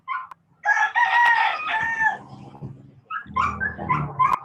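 A rooster crows loudly nearby, followed by dogs barking and clucking mixed together.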